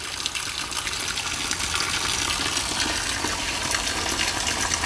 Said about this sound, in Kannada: ಈಗೊಂದು ಮಳೆ ಬಂತು, ತುಂಬ ಜೋರು ಮಳೆ ಬಂತು ನೋಡಿ